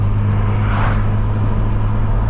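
A 900bhp BMW M4 Competition drones steadily at night, its engine and exhaust a loud, continuous low rumble that briefly swells in the middle, with no talking.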